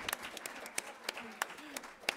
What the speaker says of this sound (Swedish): det var ju härligt att få en applåd för en fråga